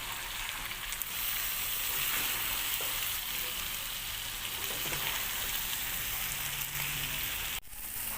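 Chicken pieces and boiled elephant foot yam fry together in a pan with a steady, dense sizzle and faint stirring scrapes, close and continuous, with a brief dip near the end.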